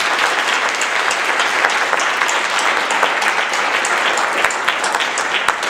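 An audience at a League of Women Voters congressional candidates forum in Thousand Oaks, California, applauds volunteers. The clapping is loud, dense and continuous and holds steady for nearly six seconds.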